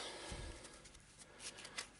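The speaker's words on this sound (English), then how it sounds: "Quick shuffle." A deck of game cards for the Eldritch Horror board game gets a quick shuffle, a faint, brief flutter of riffling and slapping cards close by, over a quiet room.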